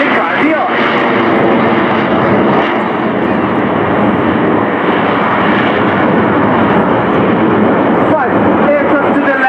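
Frecce Tricolori aerobatic jets performing a flying display at RIAT 2018, a loud continuous roar of jet engines filling the whole span with no break, an announcer's voice talking over it.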